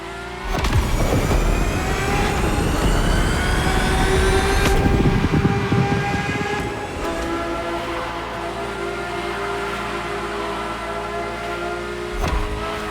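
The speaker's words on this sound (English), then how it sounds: "The F50's core is a normally aspirated V12 that came straight from a Formula One." Ferrari F50 with a naturally aspirated V12 in The Crew Motorfest, revving hard and climbing through gears in rising howling sweeps, with sharp shift breaks, then settling into a steadier high cruise tone.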